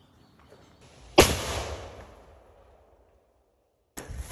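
A homemade cannon fired by a pin striking a musket cap, one loud close boom with a decaying rumble, followed by a brief second sharp burst at the end.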